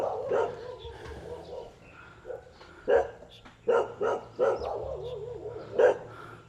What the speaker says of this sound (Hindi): यहाँ पे ये कुत्ते हैं।